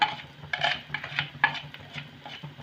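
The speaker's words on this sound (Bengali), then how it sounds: "হলুদটাকেও আমি একটু পেঁয়াজ আর আদা রসুনের সাথে হলুদটাকে একটু কষে নেবো" Onion, ginger and garlic with turmeric sauté in a pan, a spoon scraping and clinking against the metal in quick irregular strokes over a soft sizzle.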